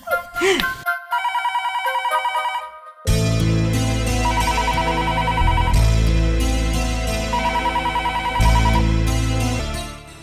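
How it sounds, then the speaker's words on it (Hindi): A telephone rings in an Odia television serial, a loud repeating electronic ringtone with a bright tonal pattern that runs through nearly the whole stretch. "फोन टा सामने रिंग होची"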